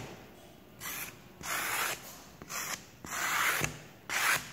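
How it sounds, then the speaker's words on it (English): Scraping a canvas texture off a clay vase piece by hand, heard as several separate rough rasping strokes of about half a second to a second each, close and fairly loud, with short pauses between them and no talking. "So I'm just going to go through and scrape my piece down."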